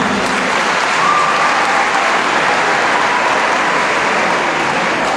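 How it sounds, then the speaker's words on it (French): Sustained applause from a large congregation at a Mass, a dense, even wash of clapping filling the space at full volume without a break. "Qu'on applaudisse pour Doyenné Saint-Augustin."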